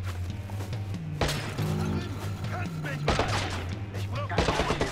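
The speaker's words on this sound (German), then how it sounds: "man kann da durch die Bretter schießen" Gunshots fired through wooden boards in Watch Dogs, a dense run of sharp cracks and impacts over a steady low engine-like drone, loud and close, with a heavier cluster of shots toward the end.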